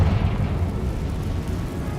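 A Confringo fire-blast spell in Hogwarts Legacy erupts as a deep, rumbling explosion that hits hard at the start and then rolls on as a dense low roar for about two seconds.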